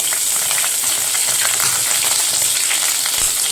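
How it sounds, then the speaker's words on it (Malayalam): Finely chopped curry leaves frying in coconut oil in a pan, a loud, close, crackling sizzle with sharp popping spatters throughout. "ഇതിലേക്ക് നമുക്ക് ഒന്നര ടീസ്പൂൺ വെളിച്ചെണ്ണ ഒഴിച്ചു കൊടുക്കുക കറിവേപ്പില ചെറുതായി അരിഞ്ഞിട്ട് കൊടുക്കുക"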